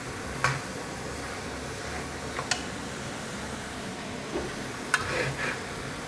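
Minced pork dry-roasts in a pan for northern Thai larb, with a low continuous sizzle and a few sharp spatula scrapes and clicks spaced irregularly across it.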